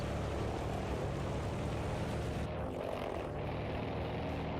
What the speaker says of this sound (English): I just heard a plane.